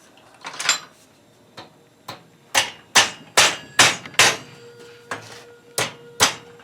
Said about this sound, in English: We're just going to take a hammer and bend those over.